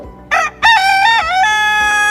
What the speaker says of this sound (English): I was awoken suddenly by the cook-a-doodle-doo of the resident rooster